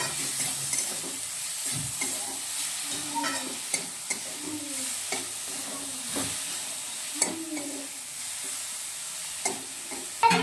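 Fenugreek seed usal being stirred in a pan, a steady sizzle and hiss of frying under repeated scraping and stirring strokes, close and moderately loud, with no talk.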